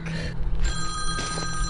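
A phone rings with a steady, bright electronic ringtone that repeats loudly and close by, with a rumbling low background and no talking during the ring.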